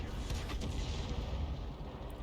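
Artillery fire from a Grille self-propelled gun in the video game World of Tanks comes as a heavy, rumbling low boom that lingers steadily through the moment, moderately quiet, with no talk.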